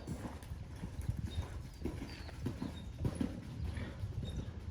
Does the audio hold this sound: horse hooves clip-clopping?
yes